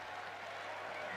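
A rugby league crowd at an Oldham versus North Wales match applauds with a steady, distant wash of clapping.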